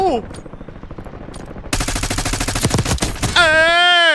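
Gun firing in the video game Warzone, rapid bursts of shots layered with game effects and chatter, loud and close, ending in a warbling tone.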